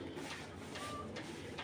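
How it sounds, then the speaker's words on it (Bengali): Pigeons coo softly and steadily in a low, muffled murmur, with faint repeated calls close by and no voices over them. "এক জোড়া চুইনা কবুতর লাল গিয়ারের, মাত্র 1500 টাকা।"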